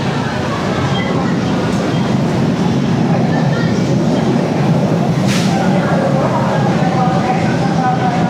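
LRT train at Monumento LRT Station in the Philippines rumbles loudly and steadily throughout, a dense rolling rail roar with a brief sharp squeal midway, heard up close over crowd noise.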